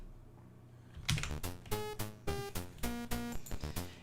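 Computer keyboard keys pressed in a quick irregular series of about a dozen sharp clacks, close and distinct after a second of quiet, used to operate a 1985 computer game.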